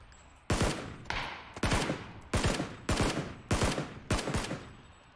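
Rapid bursts of automatic gunfire in the battle royale game PlayerUnknown's Battlegrounds (PUBG), six or seven loud, sharp volleys spaced about half a second to a second apart, each trailing into a short echo, with no talk.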